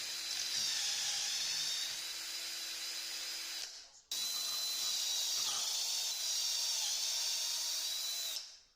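Drill boring dowel holes through a doweling jig into wood for furniture legs, a high steady whine running about four seconds, a short break, then another long run, close and without talk.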